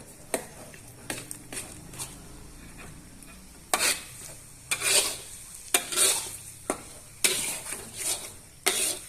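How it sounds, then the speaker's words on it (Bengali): A spoon stirs rohu fish roe curry in a wok, giving scraping clacks against the metal and bursts of sizzling, sparse at first and then louder and more frequent, close up with no talking. "এর ভিতর দুইবার নেড়ে ছেড়ে নিলাম যখনই ডিম তরকারি শুরু করবে বাড়ান দিতে হবে"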